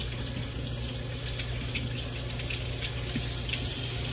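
Warm water running steadily from a tap during a hair wash, a continuous close hiss and splash with no talking.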